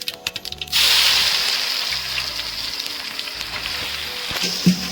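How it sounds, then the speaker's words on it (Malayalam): Onions dropped into hot coconut oil with mustard seeds burst into a loud, steady sizzle after a brief quiet start, frying continuously with faint stirring scrapes near the end. "ചൂടായ എണ്ണയിലിട്ട് കടുകിട്ട് കൊടുക്കുക ഇപ്പം ഈ സവോള ഇട്ട് കൊടുക്കാൻ പോണേ"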